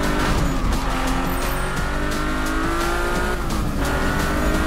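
A Nissan GT-R Premium in Need for Speed revs hard with a steady loud engine roar, tires squealing through corners over several seconds, with no talking.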